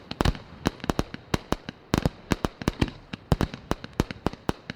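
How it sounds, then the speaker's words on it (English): Fireworks crackle and pop for Bonfire Night, a rapid, irregular barrage of sharp bangs, some doubled, close and loud with brief hisses between them. "can you pop some sound effects on some fireworks?"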